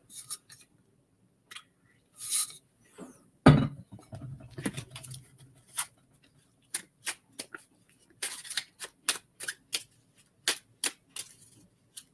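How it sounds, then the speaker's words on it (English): Playing cards shuffled for a tarot-style reading, heard as soft riffling bursts and a scattering of sharp ticks and snaps spread irregularly through the stretch, close and fairly quiet with no talk. "Still shuffling."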